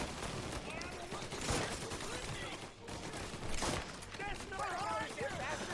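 Rapid Tommy gun bursts in Mafia: Definitive Edition rattle in dense, continuous volleys, with a voice talking over the gunfire throughout.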